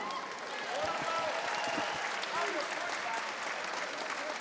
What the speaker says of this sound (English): Ladies and gentlemen, round of applause for both fighters.